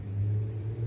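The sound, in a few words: city traffic noise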